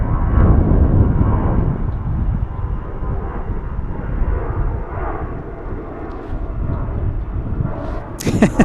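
An MD-11 jet aircraft at DFW airport rumbles steadily with a broad, loud engine roar that slowly fades, with people chatting faintly nearby.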